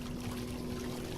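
Water from a fountain in the Eldritch video game, a steady soft pouring and trickling with a faint constant hum underneath.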